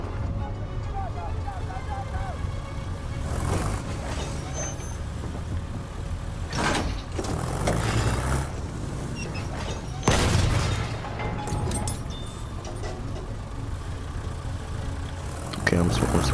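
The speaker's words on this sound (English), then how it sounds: "I'm swinging this, this tank round to attack the new objectives" Heavy tank in Battlefield 1 rumbles with a constant low engine drone while several loud cannon blasts and gunfire bursts punch through, the sharpest around the middle and near the end.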